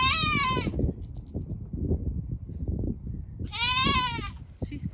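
Goats on a farm bleat loudly nearby, two long wavering calls separated by a few seconds, over rustling and shuffling movement.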